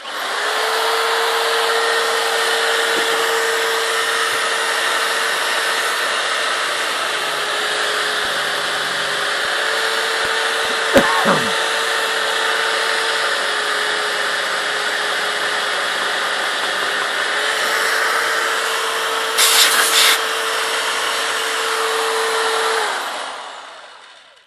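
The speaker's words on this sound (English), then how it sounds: "you want to clean up your sandpaper. This is basically a rubberized stick," A Grizzly T27916 handheld oscillating spindle sander runs with a loud, steady whine and hum, while a rubberized cleaning stick is pressed against the sandpaper. A brief knock and a short scraping burst break in before the motor winds down at the end.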